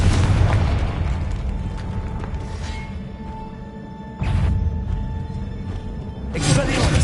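Spell explosions from the Confringo spell in Hogwarts Legacy, deep booming blasts with whooshing bursts erupting at intervals over a rumbling game background.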